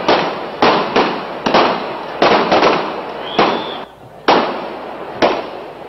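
Police fire rubber bullets and tear gas shells to break up a crowd after Friday prayers in Bangladesh: about ten sharp, loud bangs in an irregular burst, each with a short echoing tail.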